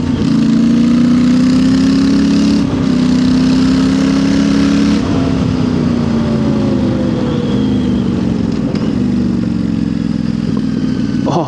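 Royal Enfield Interceptor 650 with a fresh aftermarket exhaust revs up and drops back on overrun, loud and near, the twin's note sweeping down into burbling crackles between throttle blips.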